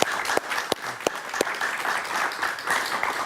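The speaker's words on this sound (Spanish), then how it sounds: "Un aplauso para él, por favor." Studio audience applause on a Spanish-language talk show, lively clapping with a few sharp, distinct claps standing out near the start and steady applause carrying on after.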